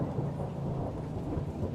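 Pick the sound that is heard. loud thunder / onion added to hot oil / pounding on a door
loud thunder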